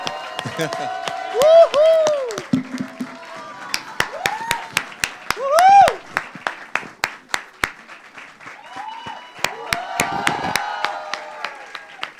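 Audience applause and cheering welcoming a singer onto a press event stage, a full burst of clapping with scattered sharp individual claps and crowd noise rising and falling over several seconds.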